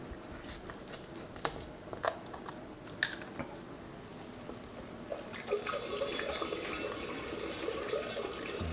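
Homemade hard cider pours through a funnel into a bottle, a steady trickling, gurgling flow with a few clinks, close and moderately loud.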